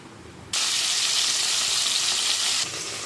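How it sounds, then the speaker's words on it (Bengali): Chicken seasoned with turmeric and salt drops into hot oil, and a loud, bright sizzle erupts suddenly, holding steady for about two seconds before easing back to a quieter background hiss. "প্রথমে আমি চিকেনটাকে সামান্য হলুদ, নুন দিয়ে ভেজে নেব।"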